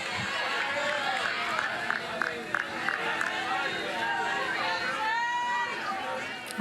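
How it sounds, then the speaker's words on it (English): A softball game crowd in Florida, at a Jacksonville Dolphins versus Florida Gators match, reacts to an umpire's call with a continuous murmur of chatter and scattered shouts from many spectators, moderately loud and steady throughout. "I don't think the crowd liked that call"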